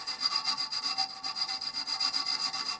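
Abrasive plumber's tape is rubbed by hand over a bent, scratched brake lever with light pressure, making a steady rhythmic rasping scrape in quick back-and-forth strokes, close and fairly quiet.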